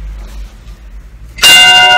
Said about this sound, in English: we have a massive, massive bell